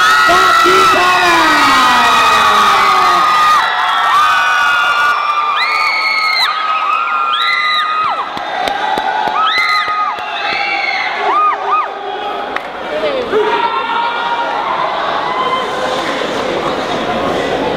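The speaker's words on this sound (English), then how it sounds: "Let's scream and cheer for Baracuda Batucada!" A crowd at a batucada drum team finals event screams, whoops and cheers loudly and continuously, with excited shouting voices and children yelling rising and falling throughout.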